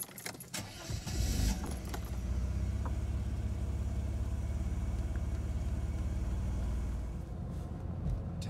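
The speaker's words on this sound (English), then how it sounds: "Mercedes warm start." A 1987 Mercedes-Benz 300E starts warm, with a short cranking burst and a few clicks and jingles before the engine catches and settles into a steady, smooth close idle.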